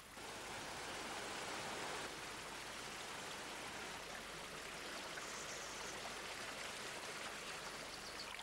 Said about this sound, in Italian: come dal profondo della terra viene alla luce l'acqua del Nervia, il torrente che dà il nome alla valle